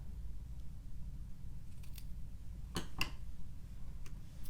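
Scissors trimming the ends of paper for a handmade Stampin' Up! greeting card, a few quiet crisp snips close by in an otherwise calm room.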